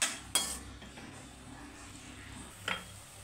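A metal spoon scrapes and clinks against a pan while tomato rice is stirred, giving a few sharp clinks at the start and near the end over a low background hum.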